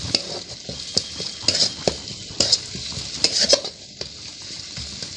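A spoon scrapes and clinks against a pan while spice paste with sugar and nut paste is stirred over gentle frying sizzle, close and steady with irregular metallic taps.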